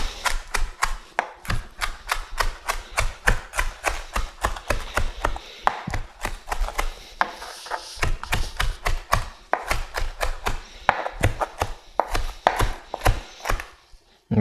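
A knife chopping cilantro on a cutting board, rapid, even thuds in quick bursts with brief pauses, close and crisp, continuing for the whole stretch.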